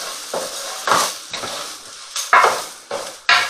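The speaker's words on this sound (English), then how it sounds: "So we're going to add rice in and stir for about a minute." Arborio rice is stirred in a pan for seafood risotto, with several loud scraping strokes at irregular intervals over a faint sizzle, and no voices.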